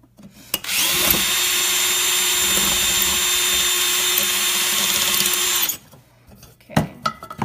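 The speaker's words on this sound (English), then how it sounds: "So now I'm doing an even bigger drill bit." A power drill fitted with a larger drill bit runs steadily for about five seconds as holes are widened for a DIY silverware holder, loud and close, whining with a steady high pitch before stopping, followed by a few handling knocks.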